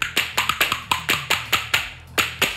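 A hand percussion instrument struck with the palm, producing a steady run of about a dozen crisp, resonant taps in a lively rhythm with slight accents, close and loud with no voices.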